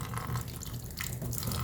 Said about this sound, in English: You rinse it